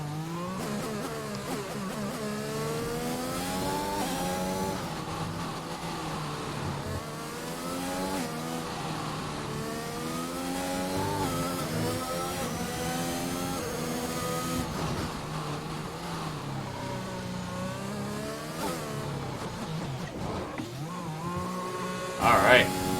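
Race car engines in an online racing video game league event at a Russian circuit rev and shift continuously with rising and falling pitch sweeps, while a commentator talks over them throughout.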